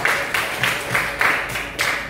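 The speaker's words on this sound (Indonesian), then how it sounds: "Tepuk tangan untuk Aidan." Children clap together in a classroom in a patterned rhythm, with several quick bursts of group clapping repeating at a steady pace, fairly close and loud.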